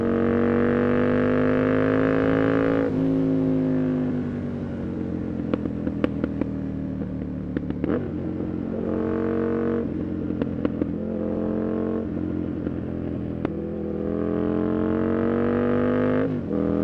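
An Aprilia RSV 1000 R Factory motorcycle engine revs while riding, a close, steady engine drone that rises and falls through several shifts, with brief clicks and clatter between.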